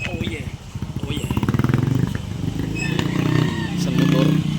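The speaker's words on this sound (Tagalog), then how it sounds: "Isang motor." A small motorcycle engine runs steadily in a Bulacan street, a throaty pulsing drone that rises slightly toward the end, with people talking over it.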